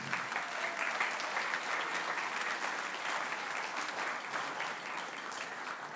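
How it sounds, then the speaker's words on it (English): Sustained applause from an audience at a spring school band concert, a dense steady clapping that holds evenly throughout at a moderate distance. "a round of applause for our middle school leaders"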